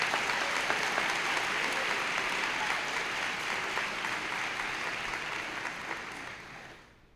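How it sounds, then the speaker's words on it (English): A graduation audience applauds the seniors, dense sustained clapping that fills the hall and holds steady before tapering off near the end. "give them a big round of applause"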